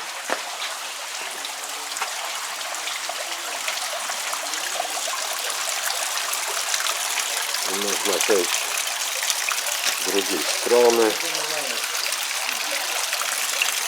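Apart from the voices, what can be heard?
water dripping in a palm house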